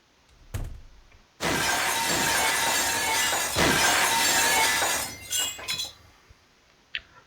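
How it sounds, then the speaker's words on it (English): Glass windows smash in the Baldi's Basics mod game, a loud crash followed by several seconds of dense shattering and tinkling shards, then a few scattered clinks as it dies away. "We're all smashing windows."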